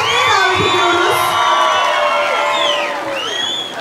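A large outdoor concert crowd at a festival cheers, whistles and shouts loudly throughout, a dense continuous roar of voices with whoops rising over it and clapping mixed in.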